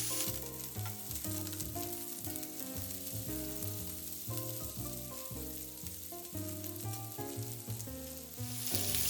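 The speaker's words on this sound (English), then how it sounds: "shallow skillet that I am going to be starting my onions in" Onions frying in a shallow skillet for keto Irish corned beef hash, a steady close sizzle and crackle running throughout with no talking.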